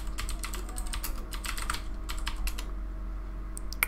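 Rapid, steady keystrokes on a computer keyboard as an apt-get command is typed in an Ubuntu terminal, close and clear with no speech.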